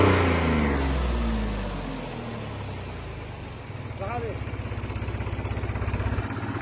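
A tractor fitted with 17.9-28 tyres, stuck in mud, runs its engine close by: a loud rumble eases off, then settles into a rapid, even chugging idle.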